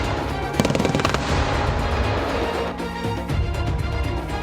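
A 30mm wheeled anti-aircraft gun fires in a ground firing test, loud rapid bursts of heavy automatic cannon fire rattling close by, with a brief pause before the bursts resume.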